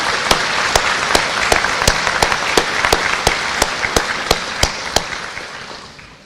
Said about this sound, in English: Please join me in giving this exceptional community of people a special round of applause.